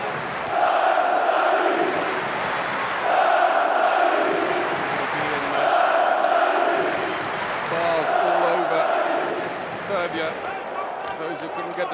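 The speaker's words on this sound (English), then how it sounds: "he milks the crowd to all it's worth" A packed 20,000-seat arena crowd at a Serbia versus Denmark handball match roars and chants in loud, sustained rhythmic swells, with a commentator talking over the din.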